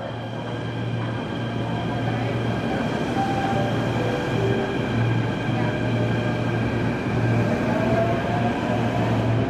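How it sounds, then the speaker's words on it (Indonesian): A train runs straight through Manggarai station on track 1 without stopping, a steady loud rumble with a sustained low hum and faint squealing tones throughout, no voices. "Jalur 1 dari arah Komodan kereta api melintas langsung."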